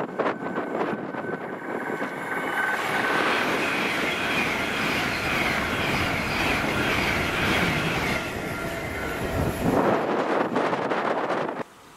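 LNER Class 801 unit 801-202 on the 11:57 London King's Cross to Edinburgh service rushes past at close range. Its loud, steady wheel and rail roar lasts almost twelve seconds, carries rhythmic clickety-clack with a squealing edge, then cuts off sharply.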